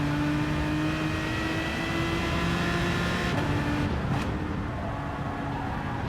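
A race car engine holds a steady droning tone under partial throttle through a corner, then briefly lifts and comes back on power, all loud, close and continuous with no voices.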